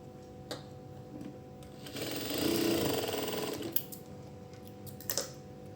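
A sewing machine stitches together cross-cut fabric pieces for piping. A few soft clicks lead into a steady whirring run of about two seconds, followed by more scattered clicks as the fabric is handled. The sound is quiet and close.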